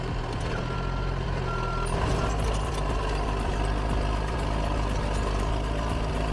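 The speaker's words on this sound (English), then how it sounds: "A fully outfitted fire dozer climbs a brutally steep slope like it's nothing." A heavy fire dozer, fully outfitted with blade and ripper shanks, grinds up a brutally steep slope of loose dirt, its diesel engine droning steadily and loudly throughout with a reversing beeper sounding in the mix.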